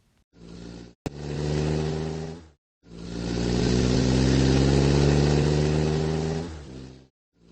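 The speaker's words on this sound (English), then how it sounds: "Hop in my truck and I'll take you to the campground." A truck engine runs steadily at a low, even pitch, dropping out briefly near the start before settling into a continuous loud drone that fades at the end.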